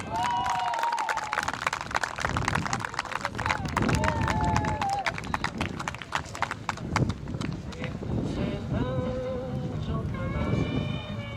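Spectators at the French 3D archery championship in La Féclaz applaud the result of the small final, a steady, dense patter of clapping that continues throughout, with a few brief tonal calls and voices mixed in.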